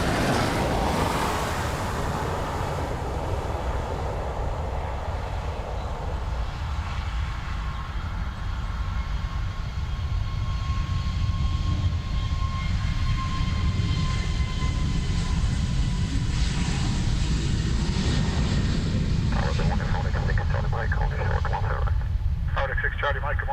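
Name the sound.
airplane at Dublin Airport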